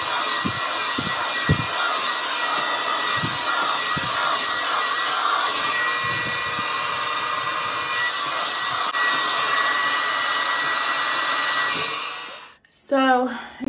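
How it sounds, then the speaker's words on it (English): Household blow dryer drying hair, a steady loud whooshing hum running close and continuous for about twelve seconds before cutting off, followed by brief handling noise. "My blow dryer is not the hottest, like professional."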